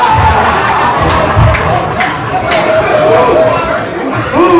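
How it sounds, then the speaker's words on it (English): A comedy-show audience roars with cheering, whoops and shouts, loud and close, crowd noise swelling and dipping with scattered voices and chatter mixed through it. "I want to give a round of applause for all the 30-year-old grandmothers."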